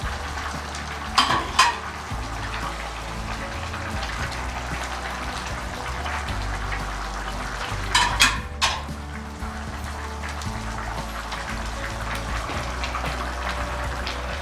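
Fish dropped into a pot of fresh green afang soup, Akwa Ibom–Calabar style, then stirred; a steady close bubbling sizzle runs throughout, with a couple of brief clunks near the start and again partway through.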